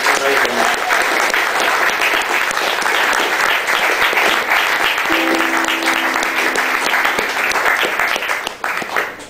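A live music audience claps steadily between songs in a thick sustained round of applause, with a few voices and brief tonal sounds mixed in, tapering off at the end.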